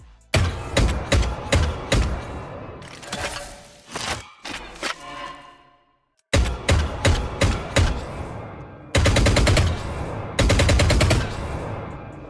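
VALORANT gunfire from the Blackthorn skin in rapid bursts, sharp repeated shots with brief pauses between volleys, some quicker automatic runs, loud and punchy.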